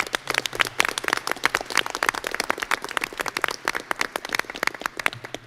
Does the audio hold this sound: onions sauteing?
no